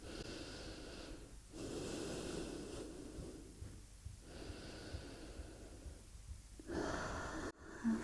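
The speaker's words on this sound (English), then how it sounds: "Take a few big breaths now." Slow, deep breathing during a morning yoga stretch, a few long inhales and exhales with soft airy rushes, close and quiet.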